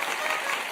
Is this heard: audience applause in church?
yes